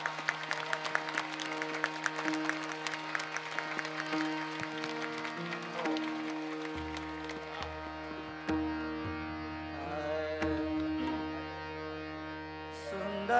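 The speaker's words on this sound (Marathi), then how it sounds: "जोरात टाळ्या वाजवायच्या" An audience at a kirtan claps loudly in time with hands raised, the rhythmic clapping running over sustained harmonium-like tones and music that shift partway through.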